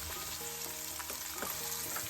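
White onion roasting in a pan for gravy gives a steady, close sizzle and frying hiss with faint stirring taps running through the whole stretch.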